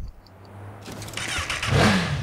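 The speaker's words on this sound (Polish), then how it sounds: "O, fajny motor." Motorcycle engine revving in the video game Watch Dogs, starting as a low idle and rising into a loud, climbing rev near the end, heard alone without talk.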